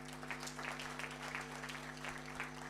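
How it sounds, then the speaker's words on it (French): An audience applauds faintly, its soft, rapid clapping heard at a distance beneath a steady electrical hum. "Applaudissez pour cette activité."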